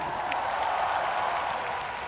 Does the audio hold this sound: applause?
yes